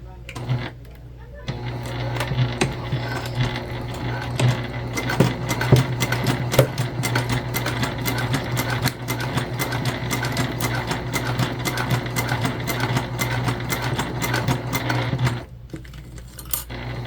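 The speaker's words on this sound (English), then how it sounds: "we're just gonna stitch 1/8 of an inch away from our edge" A sewing machine stitches a bag seam about 1/8 inch from the fabric edge, giving a steady, close mechanical whir with rapid needle ticking that runs nearly the whole time before cutting off near the end.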